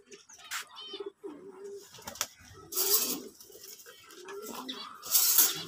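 A Kamagar pigeon held in the hand coos in low, throaty, rolling phrases, close up, with a couple of brighter rustling bursts between them.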